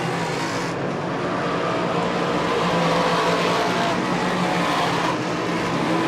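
Modified stock cars race in a tight pack during a 2007 final, engines roaring loudly and continuously as they jostle for position, with a steady wash of track noise and no voices.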